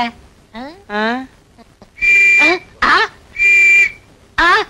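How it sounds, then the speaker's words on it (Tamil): A whistle is blown in a few sharp, shrill blasts between bits of spoken dialogue in a comedy scene. "அப்புறம் ஏன் விசில் ஊதுற?"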